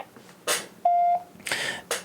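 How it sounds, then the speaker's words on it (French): A single steady electronic beep lasting about a third of a second, between bursts of background noise and rustling. "Veuillez laisser votre message après le bip."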